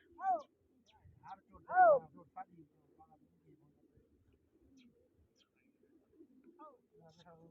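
Pigeons coo in a few soft, separated bursts, two louder calls near the start and quieter ones later, with faint chirps between them.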